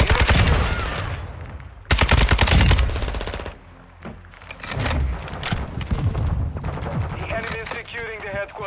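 Rapid automatic gunfire from a weapon in Call of Duty: Modern Warfare II, loud bursts of shots with booms and thuds in an online multiplayer match, with a brief lull midway before firing resumes.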